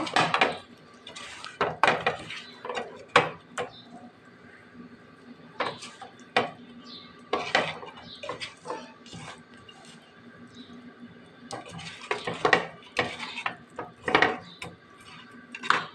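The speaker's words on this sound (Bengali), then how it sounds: "এখন এটাকে আমি ভালো করে একটু মেখে নিচ্ছি।" Fish pieces being mixed by hand with turmeric powder and salt in a metal bowl before frying, heard as scattered clinks and knocks of the dish with soft rubbing between, close by and with no talking.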